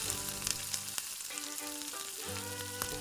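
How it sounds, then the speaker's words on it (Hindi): Onion, tomato and spice masala frying in a pan for stuffed bitter gourd with minced meat: a bright, continuous sizzle with sharp pops and occasional scraping stirs, close and fairly quiet, with no talking. "अब इसे अच्छे से फ्राई कर लें जब तक टमाटर नरम ना हो जाए।"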